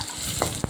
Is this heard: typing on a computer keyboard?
no